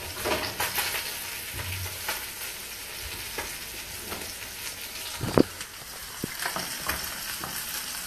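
Tilapia fillets fry in a hot pan with a steady, dense sizzle throughout, broken by a few sharper pops and spatters, close and fairly loud with no talking.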